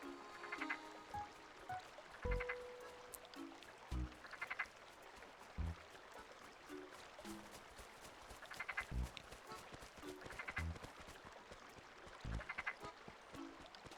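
A frog in Animal Crossing: City Folk croaks in short repeated bursts, steady and fairly close, over a quiet background of soft ambient tones.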